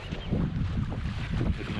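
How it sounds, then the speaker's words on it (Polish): Strong wind buffeting the microphone by a river on a cool spring day, a steady low rumbling roar with gusty fluctuations and no voices. "wiatr dość silny"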